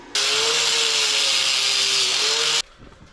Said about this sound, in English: Give me a grinder with a wire wheel on it and we'll clean this all up right quick